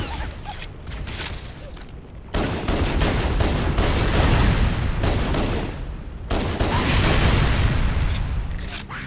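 Pistol fire in Halo: Combat Evolved, loud dense bursts of shots and booms with mechanical clanks, mixed with game combat noise, continuous and close for the whole stretch.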